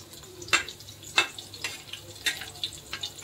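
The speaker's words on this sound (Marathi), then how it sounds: "आता आपले मिरची चांगली तळतळली।" Green chillies frying in hot oil in a pan, a steady sizzle broken by regular scraping and stirring strokes about every half second, close and moderately loud, with no voices.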